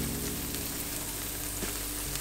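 An egg frying in a pan with cheese, a steady close hiss and sizzle that fills the whole moment without pause.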